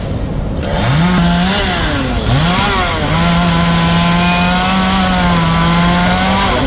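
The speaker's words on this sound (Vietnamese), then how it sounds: "Chúng mình là cưa mấy cái nhánh nhỏ nhỏ cho gớt từ từ xuống nha." A chainsaw cuts branches from a huge khaya tree, its engine loud and close, revving up and then settling into a long, steady whine as it bites through the wood.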